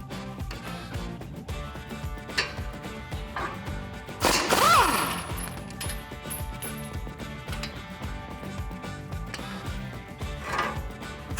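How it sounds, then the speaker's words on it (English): Impact or ratchet tool loosening the 21 mm brake caliper bracket bolts on a 2004-2021 Ford F150, with a sharp whine and clatter midway through and mechanical clicks and knocks scattered around it, fairly close. "Grab your 21 millimeter socket and let's get these removed."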